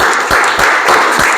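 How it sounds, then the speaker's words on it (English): Brief applause greeting Tom Seeley before his evening talk on the honey bee dance language, a close, loud burst of clapping lasting about a second and a half. "So a big applause for Tom Seeley"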